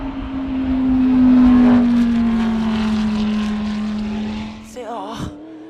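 Loud, steady engine drone of an Audi GT race car on the back straight at Phillip Island during a GT endurance race, swelling as it passes and then fading, followed by a brief voice.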